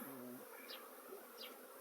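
Faint, steady buzzing of honey bees (Buckfast, Cordovan and Saskatraz) flying around hives fills the air, with a brief low drone early on and occasional high chirps in the background.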